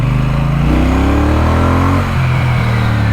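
A 2024 Triumph Bonneville T120 motorcycle engine revs close by, its pitch climbing and sagging through loud, sustained throttle blips before settling back toward idle.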